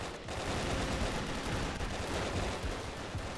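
Dense, continuous gunfire in a Brick-Force team deathmatch, rapid overlapping shots forming a loud, unbroken barrage with no pauses.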